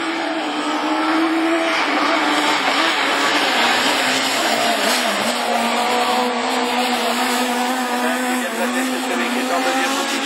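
Super 1600 rallycross cars, a Dacia Sandero and a Clio, racing at Lessay, engines screaming loudly and continuously at high revs, close and steady throughout.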